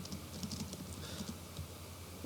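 Quick, fairly steady computer keyboard key presses tap along in a close, even rhythm against a constant background hum, with no talking.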